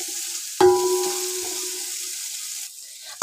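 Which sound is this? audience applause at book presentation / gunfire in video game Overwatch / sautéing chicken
sautéing chicken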